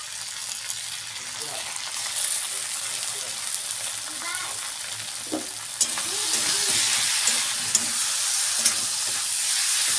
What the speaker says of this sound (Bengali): এইটা দিয়ে এইভাবে ভালো করে ভেজে নেব